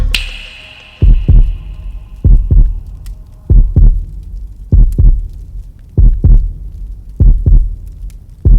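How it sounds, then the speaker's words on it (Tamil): Heartbeat in a Tamil film scene: loud, deep lub-dub double thumps repeat steadily about every second and a quarter over a faint hum, after a brief high tone at the start. "உன் ஹார்ட் பீட்."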